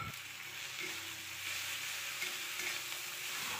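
Spice paste mixed with ground nut paste fries and is stirred in hot oil for a fish-head murighonto, a steady close sizzle with soft scraping strokes throughout, no voices.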